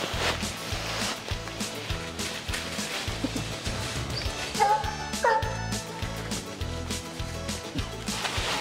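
A hunting dog on a nighttime raccoon hunt gives repeated sharp barks mixed with high whimpers and yips, close and fairly loud over outdoor background noise.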